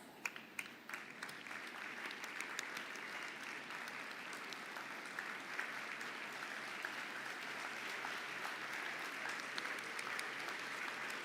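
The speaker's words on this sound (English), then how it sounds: "I ask you to please stand up and give them a round of applause" An audience at the CEMS graduation ceremony applauds in a sustained, dense wash of clapping that holds steady and slightly swells for about eleven seconds.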